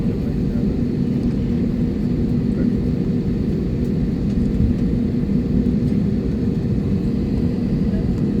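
A passenger airplane taxis toward the runway at night for takeoff, its engines producing a steady, loud, continuous rumble and whine heard from inside the cabin, without any break.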